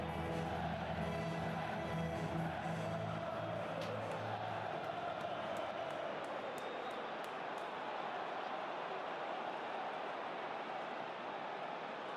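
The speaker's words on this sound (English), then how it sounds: "the crowd loving that one" A football stadium crowd roars after a goal in a German third-division match between Alemannia Aachen and Hansa Rostock, a broad sustained wash of cheering that stays steady and loud, with some tonal chanting fading after the first few seconds.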